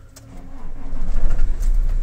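An Iveco truck engine starts after a battery replacement: a brief cranking whir swells into a low, rumbling idle that grows louder and settles into a steady throb close by, with no voices.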